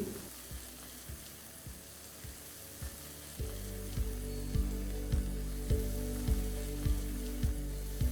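Chopped tomato and chilli powder sizzle in a pan for a soybean and potato curry. The frying hiss swells louder partway through, with regular scraping stirs punctuating it.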